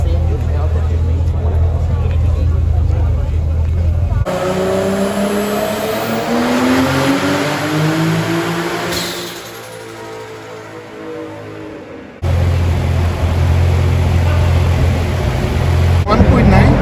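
Toyota Supra six-cylinder on a chassis dyno with nitrous, revving loud and close in one long rising pull that cuts off, with crowd talk around it and idle before and after.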